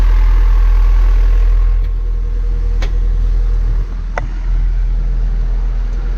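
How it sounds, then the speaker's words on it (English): Three bilge pumps run on a sinking boat, producing a steady low mechanical hum and drone, with a couple of brief clicks over the continuous noise. "So I've got three bilges on, 3 bilge pumps on here."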